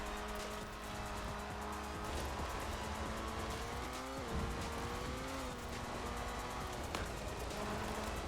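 A Forza Horizon 4 race car drifts past an AI opponent, its engine droning loudly with shifting pitch as tyres squeal and skid through the slide, a continuous roar with a brief thump midway.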